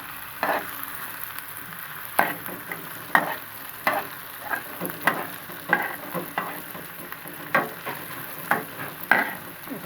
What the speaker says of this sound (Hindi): ऑयल मैंने डाल दिया है, ऑयल गर्म हो चुका है। इसमें डालूँगी सबसे पहले प्याज मैंने डाल दी थी